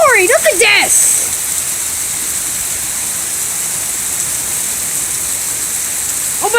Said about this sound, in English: Sure, I can hear the rain.